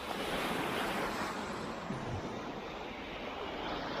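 Waves wash steadily onto the Baltic Sea shore, a continuous broad roar of surf with wind buffeting the microphone and no voices.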